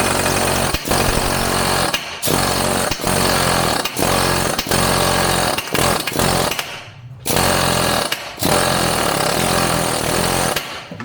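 An impact gun hammers in repeated loud bursts on a 10mm bolt up close, each rattling blast broken by short pauses, with no talking.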